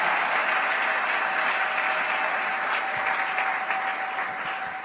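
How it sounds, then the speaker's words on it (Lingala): A church audience applauds steadily for several seconds, a dense continuous clapping that fills the room and fades slightly at the end. "Can we applaud for him?"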